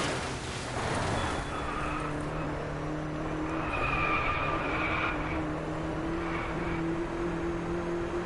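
A Volkswagen Beetle drives hard in the racing game Driveclub, its engine droning steadily while the tires squeal and skid in long, loud stretches throughout.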